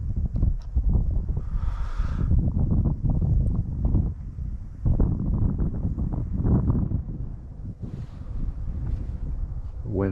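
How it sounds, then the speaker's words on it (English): Gusty wind buffets the microphone outdoors at an RC jet test flight, a steady low roar running through the whole stretch with brief louder surges; faint voices appear at moments. "It's pretty windy today."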